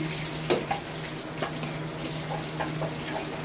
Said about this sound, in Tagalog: halo lang po ng halo para manuot po yung sauce dun sa pasta